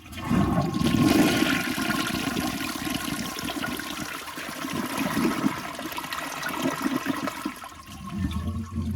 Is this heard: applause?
no